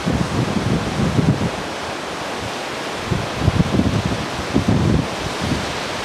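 Sea waves roll in at low tide along the shore of Jericoacoara near Pedra Furada, a broad steady wash of surf mixed with wind buffeting the microphone, no voices.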